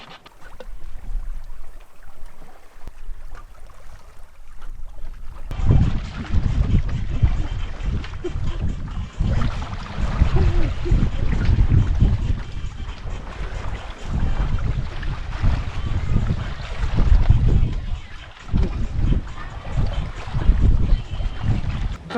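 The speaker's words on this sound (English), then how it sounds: "we are still sailing along amazingly" A sailboat running in light wind on a long passage toward Ibiza at sunset, with steady water rush and wind noise on the microphone, fairly close and continuous after a quieter opening.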